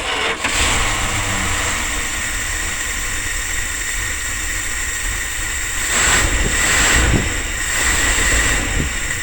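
A Dodge 360 engine with a new set of plug wires runs cold on choke, a steady, loud, close-up idle that drones on without a break, with a few brief surges partway through and no talking.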